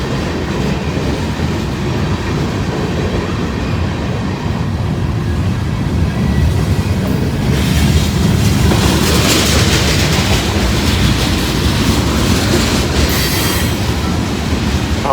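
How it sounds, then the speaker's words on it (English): A CSX freight train rolls past on the rails, a loud, continuous roar of wheels with clacking and rising squeals, close by and steady throughout. "so we get these CSX trains coming"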